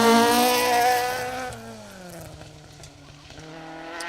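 A Mark II Ford Escort rally car in the H34 class runs on a gravel forest stage at the Woodpecker Stages Rally. The engine howls loud and close at high revs, then its pitch drops as the car passes and pulls away.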